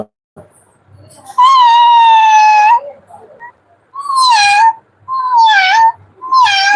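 A child imitates a cat, giving three or four drawn-out, wavering meows in a row with short pauses between them, close and loud.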